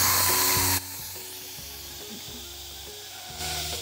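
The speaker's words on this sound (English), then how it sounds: "we're gonna turn it to quick release, which is turning it to venting so all the steam will come out." An Instant Pot on quick release vents steam in a loud hiss that drops to a quieter steady hiss, with a low rhythmic hum beneath, then swells loud again near the end.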